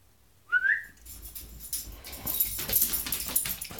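A dog lets out a short, high whimper, then softer rustling and scuffling follows as the animal moves about nearby, with no talking.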